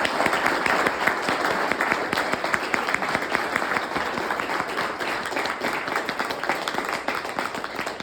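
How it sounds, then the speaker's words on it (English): Sustained applause from a sizable crowd, dense and even, with individual claps audible throughout and no talking. "please join me in a round of applause to Lieutenant Colonel Tom Campbell"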